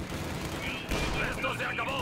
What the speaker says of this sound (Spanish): ¡Nos disparan!